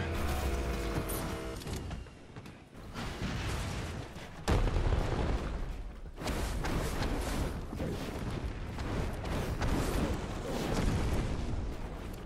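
Submachine-gun-like weapon firing in Fortnite, a dense, continuous clatter of loud shots with mechanical clanks and booming hits layered throughout, with no pauses across the whole stretch.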